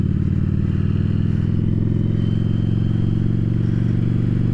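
A Yamaha Virago XV750 motorcycle fitted with a K&N chrome-top filter runs steadily on a road test, its engine droning loud and constant throughout with no pauses or talk.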